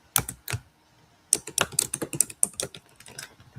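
Fingers type on a computer keyboard, close and crisp: two quick key taps, a short pause, then a rapid irregular burst of clicks that fades out.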